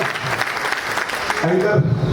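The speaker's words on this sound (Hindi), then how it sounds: "तालियां एकदम दिल से देंगे, तालियां पहले बजाइए" An audience at a leadership development program bursts into brief, lively clapping. A voice rises over the applause near the end.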